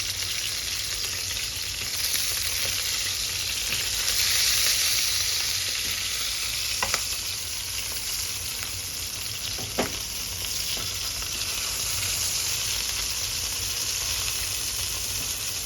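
A single Phayao fermented sour fish frying in a round pan, a loud, dense, continuous sizzle with a couple of brief sharp taps from a utensil, heard up close and alone.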